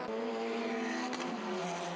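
A BMW race car accelerates hard along the circuit in a one-hour endurance race, its engine a loud, sustained tone rising steadily in pitch as it pulls away, with no voices.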